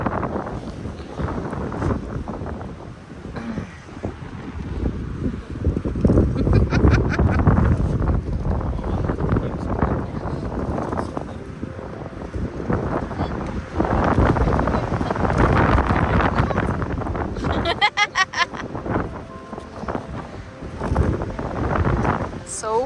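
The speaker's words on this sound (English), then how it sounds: "So windy." Wind blowing across a microphone outdoors, loud buffeting gusts that rise and fall throughout, with voices talking faintly underneath.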